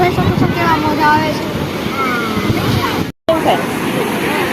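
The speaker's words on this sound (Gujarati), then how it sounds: "યુટ્યુબ ફેમિલી તમે જોઈ શકો છો કેવા મોજા આવે" Waves washing on the Gomti river at Dwarka, a steady broad surge of water under gusting wind, with people talking close by throughout and a brief dropout near the end.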